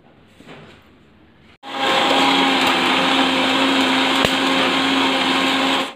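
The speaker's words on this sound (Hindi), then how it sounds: "4 मिनट के लिए 1 नंबर पर मिक्सी चलाकर इसको बीट कर लेंगे" After a quiet moment, an electric mixer grinder starts up with a clunk on its lowest speed setting, beating cream, and runs loud and steady, a whirring motor roar that barely varies.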